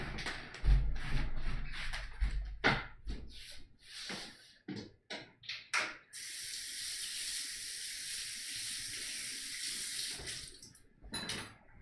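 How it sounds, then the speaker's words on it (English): Water runs from a tap into a sink while hands are washed, with knocks and shuffles at first, then a steady hiss of flowing water that stops near the end. "I'm just going to wash my hands."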